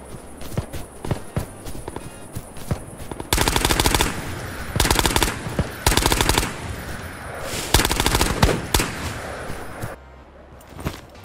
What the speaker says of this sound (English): Seems to be players at graveyard if I hear those gunshots.